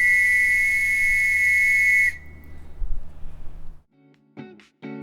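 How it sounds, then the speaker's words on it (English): A sustained shrill ceremonial RAF flag-raising whistle blast holds for about two seconds and cuts off, followed by quiet background and a few faint rattling sounds. "That was the sound of the whistle used when raising and lowering the RAF Enzyme."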